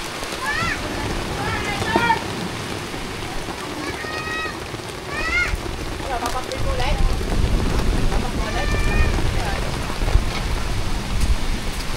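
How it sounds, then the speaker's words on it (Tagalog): Rain falls during a typhoon at a beach resort in Lobo, Batangas, a steady hiss that thickens toward the end, with high chirping calls scattered over the downpour. "Ay, it's raining."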